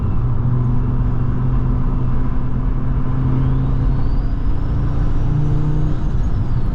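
A turbocharged manual Volvo S60R with fat tires and sway bars being driven hard through canyon turns: a loud, continuous engine drone and road rumble heard from inside the car, with no talking.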